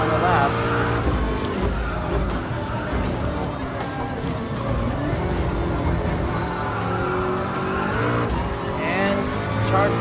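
Gr.3 Ford GT LM Spec II race car in Gran Turismo Sport, with a loud, continuous engine roar that rises and falls through gear changes and some tire squeal, and a voice talking over it throughout.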